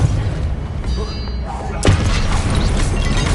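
The Pulsar spell is cast in Hogwarts Legacy, a sudden sharp crack that gives way to a sustained rumbling burst over steady game ambience.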